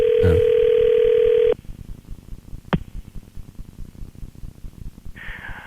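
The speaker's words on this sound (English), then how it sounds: "Did I dial that right?" A telephone line carrying a steady, loud tone that cuts off, leaving line static, a brief beep, and a fainter tone returning near the end.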